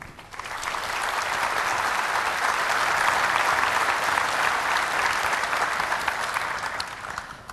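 An audience applauds steadily to welcome Dr. John Parmentola as master of ceremonies at the 26th Army Science Conference, a dense, sustained clapping that swells in and tapers slightly at the end, with no talking over it.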